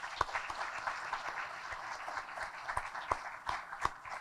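A crowd at a city chamber event applauds, a steady wash of many hands with a few sharper claps standing out, heard from a distance and fairly faint.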